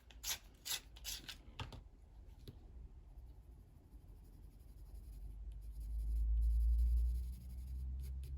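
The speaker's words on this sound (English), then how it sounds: "Sharpen my pencil again." A coloured pencil being sharpened, quiet bursts of scraping and grinding with a few clicks at the start, then a faint low hum that swells and fades in a calm indoor setting.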